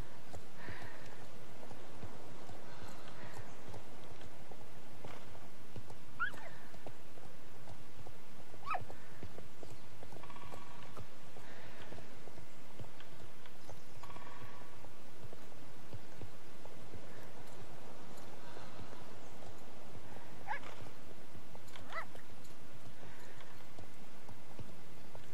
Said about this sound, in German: Und der schnellste Galopp.